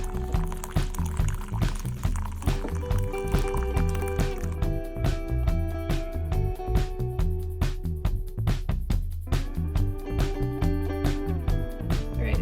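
Water runs steadily into a measuring cup up to the 3-cup line while a cleaning solution of salt and dish soap is mixed. The pour is continuous and fairly loud throughout, with no talking.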